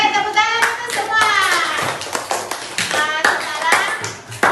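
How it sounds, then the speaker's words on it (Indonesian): A class of schoolchildren applauding during a lesson, with lively, uneven clapping close by under loud, overlapping children's voices. "Oke, tepuk tangan untuk semua."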